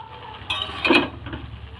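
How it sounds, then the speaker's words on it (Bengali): Lid lifted off a pot of boiled Malabar spinach, a brief metallic clink and rattle at close range, then quiet. "ঢাকাটা এবার খুলে নেব।"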